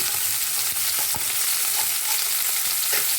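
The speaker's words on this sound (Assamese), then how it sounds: "এতিয়া সিটো চাইডে মাছখিনি মই ভজা কৰিবলৈ দিম" Fish fries in hot oil in a pan, a loud continuous sizzle and crackle with scattered sharp pops and spatters, close up and with no voices.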